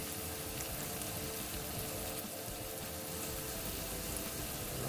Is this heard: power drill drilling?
no